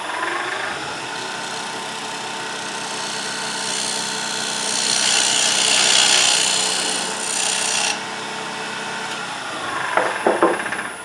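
A woodturning tool cuts a dovetail recess into the base of a wooden dinner plate spinning on a lathe, giving a steady continuous scraping rasp that swells louder mid-way, with a few short knocks near the end.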